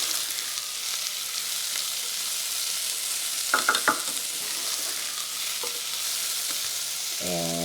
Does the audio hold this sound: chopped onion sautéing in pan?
yes